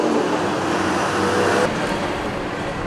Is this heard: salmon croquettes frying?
no